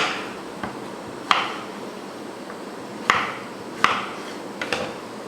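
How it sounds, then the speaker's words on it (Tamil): A knife cuts raw plantain into small pieces, making a handful of sharp, irregularly spaced taps against a board in an otherwise quiet room. "வாழைக்காயை இந்த மாதிரி சின்ன சைஸில் கட் பண்ணிக்கோங்க"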